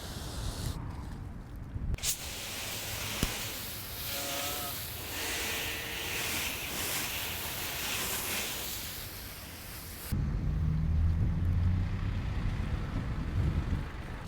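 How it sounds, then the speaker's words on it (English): Garden hose spraying water into a bucket of Chemical Guys Clean Slate car wash soap to build suds, a steady loud rushing spray that shifts to a deeper, fuller churning splash near the end. "I'll activate my suds with the garden hose"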